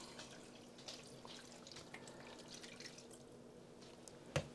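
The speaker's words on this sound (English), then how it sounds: "Put some water in the bottom." Water poured into the bottom of a seed tray trickles and drips softly in a quiet room, ending with a brief sharp splash or tap.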